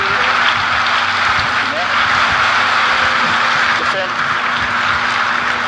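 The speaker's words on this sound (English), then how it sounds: "I'd like everyone to give a round of applause to Corey and Matt" An audience applauds steadily for Corey and Matt at a State of Unreal presentation, a continuous wash of clapping held at even loudness with no voice over it.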